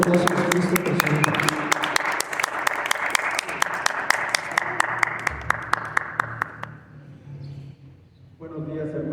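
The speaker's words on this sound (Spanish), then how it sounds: "es un aplauso por Cristo presente" A church congregation applauds together in praise, a dense wash of many hands clapping steadily for several seconds before fading out, followed by a voice beginning to speak.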